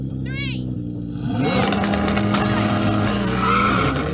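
Tuned supercars, a Nissan GTR, a modified Audi R8 and a McLaren 720S, launch in a drag race: tires squeal and skid as engines rise loudly, with voices over the roar.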